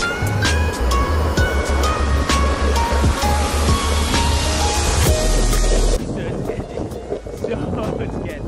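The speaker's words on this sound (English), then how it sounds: "All right, so the waves are small, but super clean." Small, clean ocean waves break steadily in a continuous roar of surf, with wind noise buffeting the microphone.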